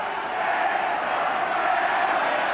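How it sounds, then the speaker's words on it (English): Rugby crowd at an England versus Australia international match, a steady dense roar of many voices in a large stadium, sustained and fairly loud throughout without distinct breaks. "Listen to the crowd."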